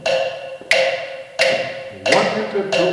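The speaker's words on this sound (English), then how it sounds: "If I do it with a click, it will sound like this." Metronome click track: sharp, evenly spaced ticks roughly every 0.7 seconds over a sustained low ringing tone, steady and fairly loud.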